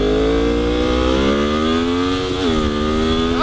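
Loud, close motorcycle engine revving with a rising harmonic whine, a brief dip around a gear change, then climbing again in second gear, with no talking.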